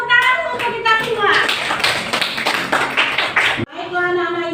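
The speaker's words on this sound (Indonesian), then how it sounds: "Ayo tepuk tangan untuk kita semua." Children clapping their hands together in a classroom during an Islamic studies lesson on Surah Al-Ma'un: a quick run of sharp, fairly loud claps that cuts off abruptly, with young voices before and after.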